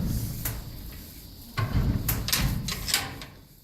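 Homestead barn or shed doors being pushed shut in wind, a few sharp latching clunks and knocks spaced over a few seconds, fairly close, between quieter rustling.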